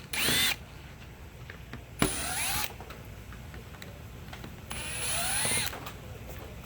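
A power drill backs out three screws from the rear of an NR1890DR/NR1890DC nailer magazine, with loud whirring bursts near the start, middle and end, separated by quieter handling.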